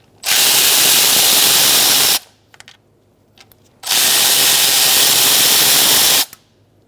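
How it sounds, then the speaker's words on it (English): A power tool spins out valve cover bolts and nuts on a 2002-2006 Toyota Camry engine in two loud, hissing whirs of about two seconds each, separated by faint clicks and handling noise. "Continue taking out the bolts."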